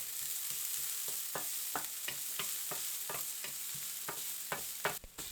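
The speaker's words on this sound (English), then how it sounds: "Add in minced shallot and saute for 30 seconds." Minced shallot sizzling in vegetable oil in a pan over medium heat for a Vietnamese pyramid rice cake filling, with a steady hiss and regular scraping stirs about twice a second, no voices.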